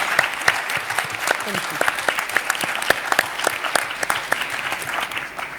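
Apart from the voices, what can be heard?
audience applause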